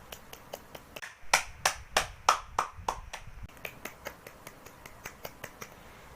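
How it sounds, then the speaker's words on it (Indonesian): A small classroom group claps in a quick, uneven run of sharp hand claps that swells to a louder peak, then thins to lighter, sparser claps toward the end, with no talking over it. "Beri tepuk tangan."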